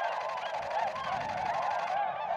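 Flock of five or six swans in eastern North Carolina calling, a continuous chorus of overlapping honking calls, loud and close, with no speech.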